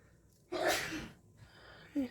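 One sharp, close sneeze bursts out after a quiet intake of breath, followed by a short vocal sound.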